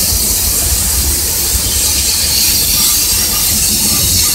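A Chicago and North Western freight train rolls past at Sacramento or Roseville, a steady loud roar of railcars with high squealing wheels and no voices.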